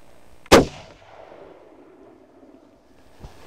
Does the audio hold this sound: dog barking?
no